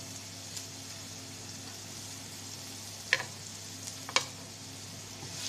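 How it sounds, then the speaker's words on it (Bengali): Minced ginger and garlic frying in a pan, a faint steady sizzle with two sharp metallic clicks partway through, quiet and without voices. "দিয়ে দেবো আদার কিমা রসুন কিমা"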